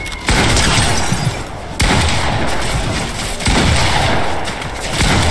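Gunfire in the video game Fortnite comes as dense, loud bursts of rapid shots and crackling impacts in several volleys separated by brief gaps, with no talking.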